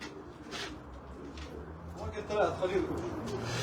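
Soft, low pigeon cooing repeats in the background while people talk nearby.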